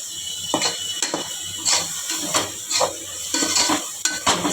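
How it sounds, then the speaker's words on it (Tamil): A spoon stirs chicken curry with tomato in a pan, giving repeated scraping clinks of metal on the pan in a steady, uneven rhythm, close and fairly loud, with no talking. "மிக்ஸ் பண்ணிக்கணும்."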